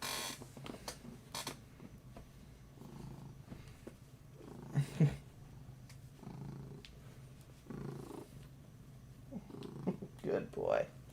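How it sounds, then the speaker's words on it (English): A pet cat purring loudly, a soft rumbling purr running under intermittent speech and handling noises, fairly quiet and close, with brief snorts and small sounds scattered throughout. "Yeah, he's purring really loud."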